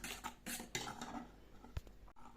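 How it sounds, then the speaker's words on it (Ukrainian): A utensil stirs flour into honey cake dough in a bowl, producing quick clinks and scrapes of metal against dishware in short uneven bursts, close and fairly quiet, with no voices. "Добавляємо оце муку туди, Добавили. і по чуть-чуть треба. І перемішуємо, перемішуємо, перемішуємо."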